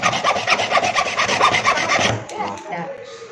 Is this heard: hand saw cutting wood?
yes